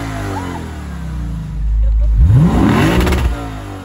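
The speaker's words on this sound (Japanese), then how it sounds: "いやでもやっぱ V8 だからさ、いい音する。" A Lexus IS500 sedan's V8 engine idles low, then revs up loudly with a rising whine before settling back down, heard close by.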